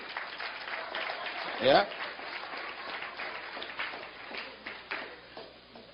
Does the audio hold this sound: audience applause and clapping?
yes